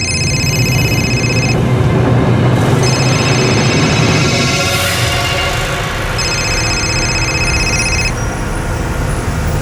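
A telephone rings in repeated bursts of high electronic trilling over loud, steady traffic or engine noise, with no talk over it.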